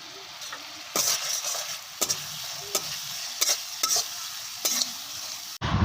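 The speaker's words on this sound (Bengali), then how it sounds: "ভালো করে মশলাটাকে এবারে একটু কষিয়ে নেব।" Cumin and chilli powder fry in a pan for a vegetarian ghugni, a low sizzle broken by about six sharp scraping stirs at a steady pace, close by.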